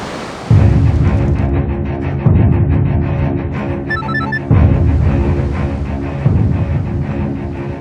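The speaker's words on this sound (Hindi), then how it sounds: "संदीप ने भी लगातार उसे कॉल करने की कोशिश की, लेकिन संजना ने उसका फोन उठाना ही बंद कर दिया।" A telephone rings on and on without being answered, in a television crime drama scene. It is loud and close, with four evenly spaced ring bursts repeating about every two seconds.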